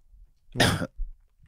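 A single sharp cough from someone who is ill, one burst close to the mic, followed by a faint second onset right at the end.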